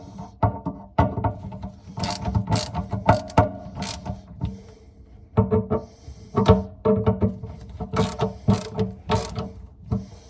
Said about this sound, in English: Let's tighten down the 3 screws that hold the sink flange together and tighten.